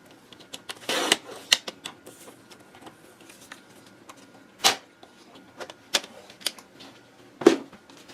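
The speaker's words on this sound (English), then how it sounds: "we're going to cut a strip of purple at 1 1/4 inch" A paper trimmer cutting a strip of purple paper, with scattered sharp clicks and slides of the blade and paper handling, a few louder snaps standing out against quiet in between.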